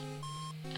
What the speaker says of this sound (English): It makes a high-pitched beep every time you turn.